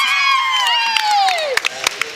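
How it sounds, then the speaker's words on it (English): Teammates cheer at a girls' basketball game, rising shouts and whoops that sweep downward, then sharp claps and crowd bursts, loud and close. "A couple of our Margaretta teammates right next to us. You could hear him cheer."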